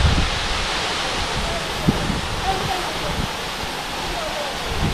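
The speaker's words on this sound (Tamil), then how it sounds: "தண்ணி எப்படி கொட்டு போதாங்க அருவியில்." Waterfall at Kolli Hills, an 80-foot cascade where people bathe, giving a steady broadband roar of pouring water that fills the whole clip, with voices speaking faintly under it.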